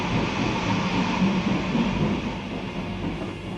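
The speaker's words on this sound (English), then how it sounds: "The troop trains rumbled across Europe, bearing division after division from east to west." Troop trains rumble along the rails across Europe, a heavy, continuous low roar of railway cars with a faint rhythmic wheel clatter underneath, steady and fairly loud, easing slightly toward the end.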